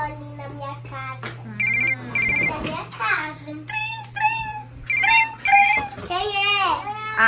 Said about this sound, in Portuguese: Acho que é o telefone.